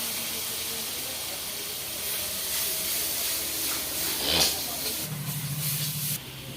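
Ground spices, Kashmiri chili powder, regular chili powder and turmeric, frying in hot oil in a pan: a steady, close, loud sizzling hiss that runs unbroken, with a brief stir scrape partway and a low hum near the end.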